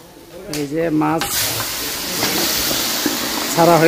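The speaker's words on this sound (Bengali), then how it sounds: "মাছ ভাজা হচ্ছে" Fish frying in hot oil, with a broad steady sizzle that swells after a brief stretch of speech at the start. Voices speak at the beginning and again near the end, above the constant hiss of the frying.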